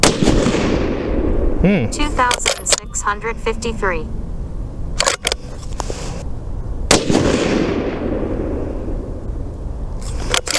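Rifle shots from a Ruger Precision Rifle in 6.5 Creedmoor at a range: several sharp loud cracks spaced a few seconds apart, with a person talking between them.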